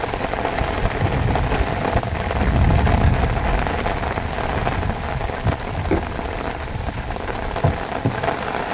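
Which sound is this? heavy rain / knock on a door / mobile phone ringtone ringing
heavy rain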